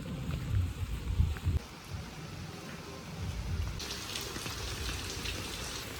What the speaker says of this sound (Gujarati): અત્યારે આવે છે વરસાદ ને વીજળીની કડાકા ભડાકા ને એવું થાય છે